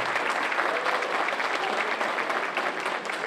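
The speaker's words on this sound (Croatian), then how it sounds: "Molim vas veliko aplauz za mene." A studio audience at a Bosnian singing talent show applauds steadily, dense continuous clapping filling the hall at close range with no voices over it.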